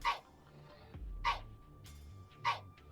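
A cartoon dog-like bark from the Sprunki video game character, three short, evenly spaced yips at close range over a faint background hum.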